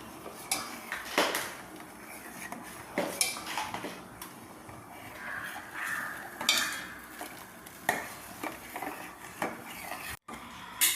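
A spoon scrapes and clinks against a pot as lentil payasam is stirred over a low-medium flame, giving steady repeated metallic knocks and scrapes at close range with a faint simmering underneath.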